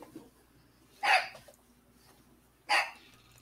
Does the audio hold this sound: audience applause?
no